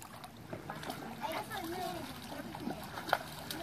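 Kayaks paddled on a lake, with soft water splashes and trickles from the strokes, faint and steady, under people talking and calling out.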